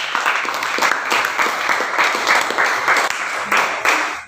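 A group applauds together, a steady patter of many hands clapping at close range, continuing throughout before tapering off at the end.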